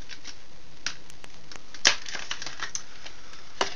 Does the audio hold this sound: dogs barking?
no